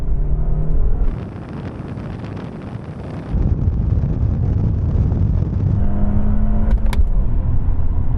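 Used BMW, Mercedes and Audi cars accelerating in a rolling half-mile race from 30 mph in second gear, a loud engine roar with heavy wind buffeting that shifts in tone partway through, no talking.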